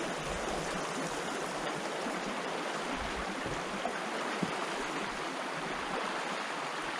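Steady broadband rush of creek water flowing around someone wading downstream at a solo camp, continuous and fairly close, with no voices.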